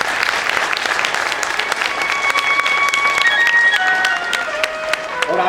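Audience applause at a Shrimad Bhagwat Katha religious discourse in Barsana, a dense, sustained wash of clapping running the whole stretch, with melodic singing or instrument lines faintly threaded through it.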